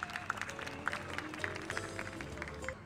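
At the awards ceremony of the third Jeong Yak-yong humanities concert, the audience applauds to welcome a middle school student presenter. The clapping is soft and distant, with a few sharper claps standing out and faint voices under it.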